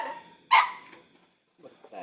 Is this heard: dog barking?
yes